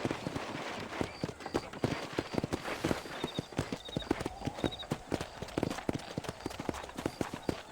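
Rapid, steady hoofbeats of a galloping horse in the video game Red Dead Redemption drum along continuously, loud and close, with faint chirps in the background.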